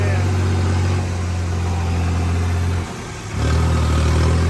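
Tractor engines hauling grain-loaded trolleys into a rice mill yard drone loudly and close, a steady low rumble that dips briefly before climbing back up as the engine revs, with no speech over it.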